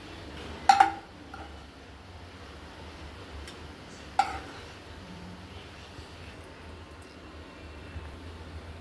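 Dishes clink as freshly cooked egg porottu is moved from the pan into serving bowls: two sharp, bright knocks a few seconds apart over a quiet kitchen background, with no talking.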